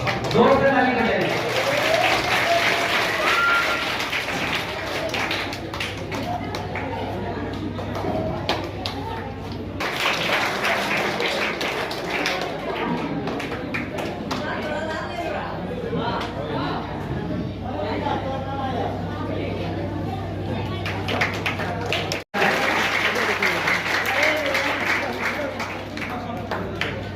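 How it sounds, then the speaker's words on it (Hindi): Audience applause at a public gathering, a long run of dense crowd clapping with murmuring voices and speech mixed in, breaking off briefly before swelling again. "जोर से ताली बजाइए।"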